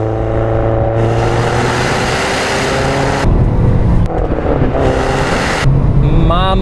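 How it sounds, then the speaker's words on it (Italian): An 18-year-old Audi S3 accelerating hard, heard from inside, engine pitch climbing through gears past 3000 rpm with loud roar and wind noise. "proviamo a fare un'accelerazione qua"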